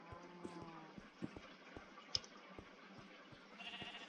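Sheep in the video game Minecraft bleat faintly a couple of times against a quiet backdrop, mixed with soft clicks and footstep-like taps.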